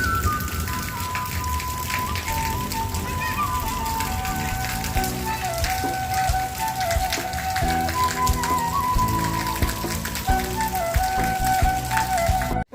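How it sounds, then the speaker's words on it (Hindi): Steady rain falls in a mountain setting, a dense continuous patter of drops hitting surfaces, with faint tonal whistling and distant background sounds mixed in; no one speaks. "तब तक आप देखिए ज़रा बारिश का आनंद लीजिए, पहाड़ के इन खूबसूरत से नज़ारों का।"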